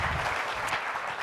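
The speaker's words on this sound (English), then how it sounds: "Thank you so much for the applause" A short, steady burst of audience applause during a lecture-style lesson, moderately loud and unbroken, with no talking over it.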